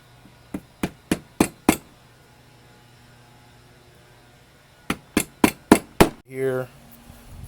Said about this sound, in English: I'm going to use the chisel and hammer so it'll be nice and straight